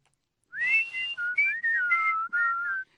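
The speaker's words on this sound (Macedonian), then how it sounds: "Тоа ми звучеше како свиркање." In a Peppa Pig cartoon, a clear, close whistle plays a short melody of several sustained and sliding notes, with no talk.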